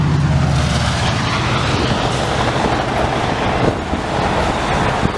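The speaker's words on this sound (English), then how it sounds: "I'll let the train go by." A train passes close by, a loud, steady rush of rolling wagons with clattering wheels that holds for the whole stretch, with no talking over it.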